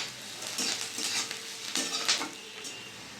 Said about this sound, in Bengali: পেঁয়াজটা বেশি ভাজবো না, হালকা ভাজা ভাজা হবে